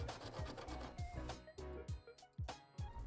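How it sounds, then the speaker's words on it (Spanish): A fibre scouring pad rubs back and forth over a freshly cut edge in a 2019 Lexus UX bumper, close, quiet rhythmic scraping strokes repeating roughly every half second. "lo que yo utilizo es un estropajo de fibras, afinaremos el recorte realizado"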